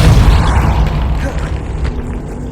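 A spell blast from the Depulso spell in the video game Hogwarts Legacy, a loud booming burst with a heavy low rumble that fades gradually over a couple of seconds.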